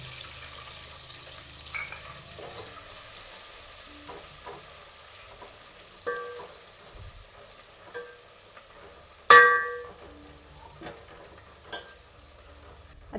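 Finely chopped onion sautés quietly in a pan for crab curry, a faint soft sizzle broken by occasional stirring clinks and one sharp loud knock of a utensil.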